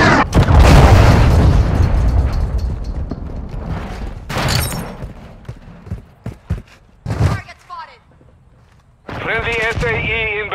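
A grenade blast opens the shooter game clip with a heavy, loud boom, followed by scattered sharp bursts of gunfire and a second explosion, ending in a sustained mechanical whine; voices come through between the noises.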